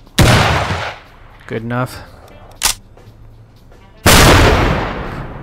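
Gunfire in the video game Empire of Sin: two loud booming shots, one at the start and another near the end, each decaying slowly, with a brief sharp crack between them and someone speaking over the gap.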